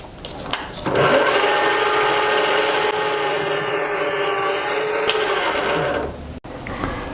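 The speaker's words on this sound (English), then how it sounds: "So I'm going to start by drilling a center hole." A lathe drills a center hole into the end of a metal rod, a steady sustained machining whir with a faint rubbing edge that holds evenly for about five seconds before cutting off abruptly.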